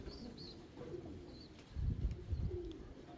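Soft pigeon coos rumble from birds kept in a loft, low throaty calls swelling louder midway with faint chirps above, with no speech.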